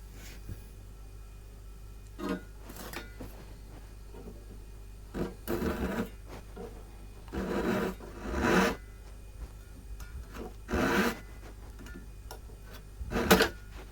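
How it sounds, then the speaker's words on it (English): Small hand saw cutting off protruding wood ends on the top and back of a Tasmanian blackheart sassafras OM guitar, short intermittent bursts of rasping strokes over a low steady hum. "I need to cut off the ends that are protruding on the top and the back with my favourite little saw"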